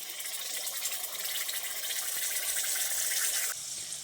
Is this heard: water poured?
yes